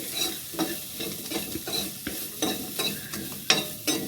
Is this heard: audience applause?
no